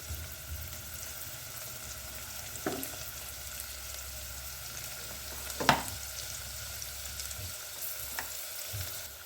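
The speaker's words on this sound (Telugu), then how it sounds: "ఆనియన్స్, పచ్చిమిర్చి వేసుకున్నాం కదా, ఒకసారి మిక్స్ చేసుకుందాం." Onions and green chillies frying in a pan for mint rice, a steady soft sizzle with occasional light scraping clicks from stirring, faint and close, no talking.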